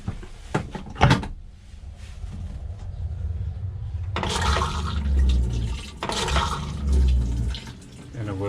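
A Thetford camper toilet flushes with a rushing gush of water, preceded by clunks of the lid and mechanism, then a second surge, while someone talks over it.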